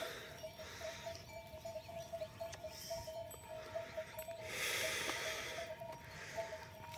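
Goats snort and bleat softly in a farmyard, with scattered animal noises and breathy sounds over a low steady background hum.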